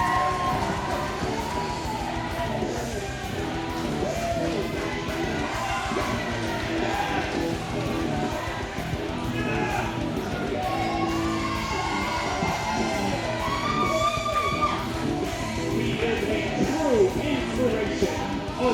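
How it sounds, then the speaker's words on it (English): At a UCW-ZERO wrestling event, a crowd keeps up a steady din of yells and whoops for Andy Monreal, loud and continuous with entrance music and an announcer's voice mixed in. "Make some noise. He is Andy Monreal."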